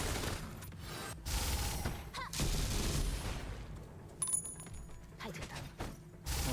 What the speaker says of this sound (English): just a couple more little explosions